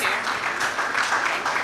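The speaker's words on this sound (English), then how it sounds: "Please, let's give our panelists another resounding applause." An audience at a healthcare panel session applauds the panelists, a dense, steady wash of clapping that holds at an even level throughout.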